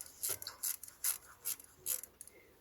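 A ratchet turns in short repeated clicking strokes, about six quick bursts, tightening a 9 mm coil pack bolt on a Toyota Prius engine, close and fairly quiet.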